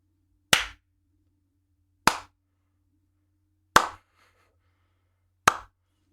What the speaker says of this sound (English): a slow clap.